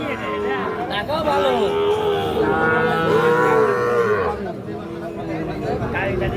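A young Sahiwal bull calf moos in long, drawn-out calls, close and loud, with people chattering in the background at a cattle market.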